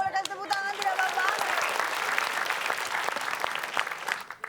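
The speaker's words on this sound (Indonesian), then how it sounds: "Boleh kasih tepuk tangan tidak Bapak?" A television game show studio audience breaks into loud, dense applause, the clapping sustained across the whole stretch while a voice speaks over the opening moments.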